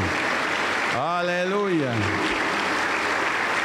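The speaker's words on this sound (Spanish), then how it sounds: "Aplauso para el Señor Jesús, de testimonio claro." Sustained applause from a Pentecostal church congregation in Junín, Peru, fills the whole stretch as a dense steady clatter, with one voice briefly calling out over it.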